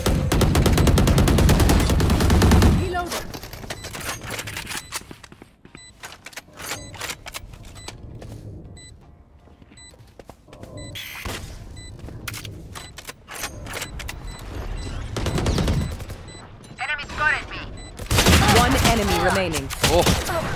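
Rapid gunfire bursts from a Valorant-style competitive shooter match, loud volleys at the start and end with scattered single shots between, while players talk over the action.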